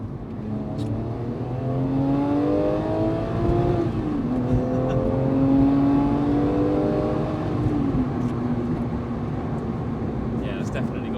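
A Porsche Boxster accelerating hard, heard from inside the car: the engine note climbs steadily and loudly, with two gear changes along the way, over continuous road and wind roar.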